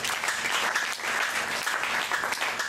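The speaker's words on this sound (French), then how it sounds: "Acclamons pour le Seigneur." Congregation applauding during a church service, a dense and steady wash of clapping from many hands that stays loud and even throughout, with no voices standing out.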